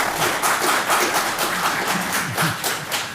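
Audience applause at a Clearwater city council meeting, a steady wash of many hands clapping at moderate loudness, continuous for a few seconds in a room.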